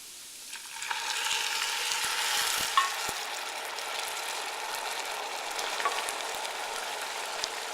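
Wine poured into a pan of saffron risotto makes a broad, even sizzle that rises and holds, with a few sharp clicks and scrapes from stirring. No voices.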